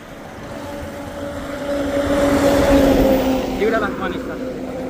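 A 350cc motorcycle engine hums steadily while riding along a road, its tone rising slightly midway, close and continuous under wind and road rumble.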